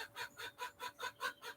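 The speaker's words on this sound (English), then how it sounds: "I've got trained chickens, unbelievable." Chickens clucking close by in a steady rhythmic series of about seven evenly spaced clucks, faint but distinct with no voices over them.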